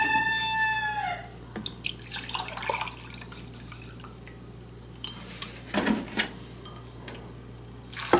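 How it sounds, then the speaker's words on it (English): A rooster crows once near the start, followed by scattered clinks, drips and small knocks in a quiet kitchen. "Do you hear my rooster?"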